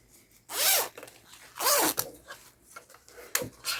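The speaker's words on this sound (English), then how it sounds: "undo our zip for that" A zipper on a fabric cover for a wire-and-fabric sculpture made from an Ikea lamp is undone in three quick, close, rasping pulls separated by pauses.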